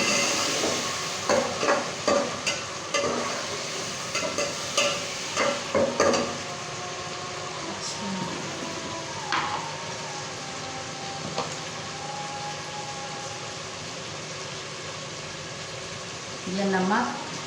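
Ginger garlic paste, chopped tomatoes and green chillies fry in a pan with a steady background sizzle, broken by intermittent clinks and scrapes of a utensil, while a voice talks over the cooking.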